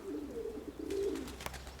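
A pigeon coos alone, close and soft, in two short throaty phrases over quiet background.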